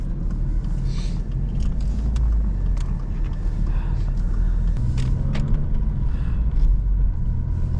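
Alfa Romeo Brera 3.2 V6 JTS Q4 on the move, a steady low engine drone and road rumble from inside the cabin, fairly loud and constant, with light clicks and cabin noises on top.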